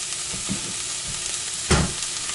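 Navy beans and lamb seasoned with salt and pepper cook in a pan with a steady, even sizzle, broken once by a brief louder clack near the end.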